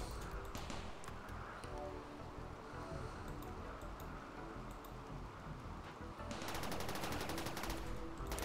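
Automatic turret fire in the colony-building game RimWorld, rapid repeated gunshots over a dense, noisy game soundscape, with the burst getting louder and more intense near the end.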